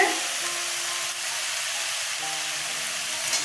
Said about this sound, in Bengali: আদা পেঁয়াজ লঙ্কা ছেড়ে দিলাম পেঁয়াজ কষানো হয়ে গেছে